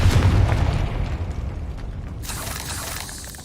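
A fiery Confringo spell blast from the video game Hogwarts Legacy bursts with a loud, deep boom, its rumbling tail fading over a few seconds before a brighter crackle of debris.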